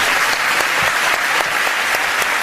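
A Spanish-speaking audience at a lecture claps together in a dense, steady burst of applause that lasts a couple of seconds, with no voices over it.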